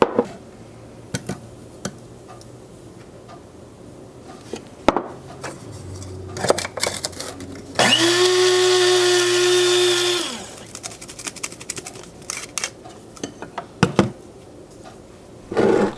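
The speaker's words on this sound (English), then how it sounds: "this is just my coffee grinder that I cleaned out" A coffee grinder grinds homemade chicken bouillon powder, a loud steady whir of about two seconds framed by clinks and handling noises, with no talk.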